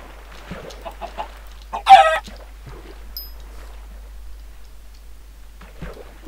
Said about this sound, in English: And those are chickens.